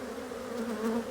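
Honey bees flying around hive boxes on a busy day with pollen coming in, a steady close buzzing drone of many wings that swells slightly, with no talking.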